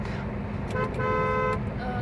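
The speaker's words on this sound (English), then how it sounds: "then just honk once so that others can understand I am overtaking the other vehicle" A vehicle horn sounds in a short burst of honks over steady engine and road rumble, with a voice faintly underneath.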